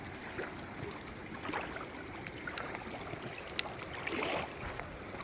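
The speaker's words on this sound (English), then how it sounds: "I made it to the river." A river at the bottom of the Grand Canyon flows in a steady, soft rushing wash of moving water, heard alone with no voices.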